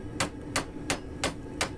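Five sharp metallic hammer strikes on a bar over an anvil ring out at an even, brisk rhythm, each a bright clang on metal, close and loud.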